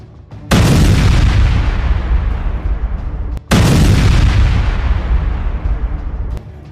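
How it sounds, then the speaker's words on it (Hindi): Two massive booming blasts, each a sudden loud explosion followed by a long decaying roar, from a missile striking the ammunition depot behind a Merkava tank in southern Lebanon. "वीडियो में दिखाया गया है कि कैसे मिसाइल ने टैंक के पीछे के गोला बारूद डिपो पर हमला किया।"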